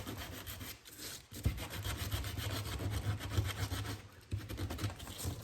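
Painted wood is scuffed hard for a weathered beach look, a steady fast back-and-forth rasping scrub that runs nearly without a break, close and moderately quiet.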